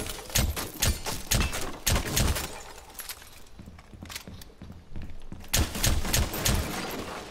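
Shotgun fire in a video game hits in rapid, punchy blasts, loud and close, with a brief lull in the middle before another quick flurry of shots.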